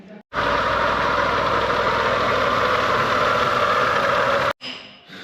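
A BMW E46 engine cranks and catches, then settles into a steady, rumbling idle for several seconds before cutting off abruptly.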